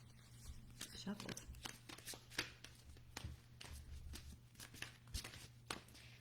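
Tarot cards riffled and shuffled by hand, a fast run of crisp flicking and slapping bursts across the whole stretch over a steady low hum.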